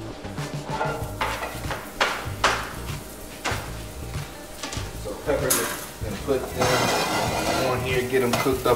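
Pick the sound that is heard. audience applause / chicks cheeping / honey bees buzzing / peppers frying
peppers frying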